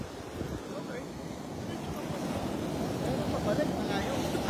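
Wind gusts outdoors on a breezy day, a low buffeting rush over the microphone that builds gradually, with a person's voice faintly present.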